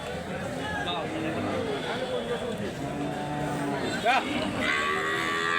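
Cows moo repeatedly over a busy livestock market din, with people talking in the background and a louder low call near the end.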